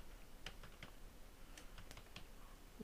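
Faint typing on a computer keyboard while entering names and addresses for a print merge in CorelDRAW, scattered soft key clicks in irregular rhythm over a low background hiss.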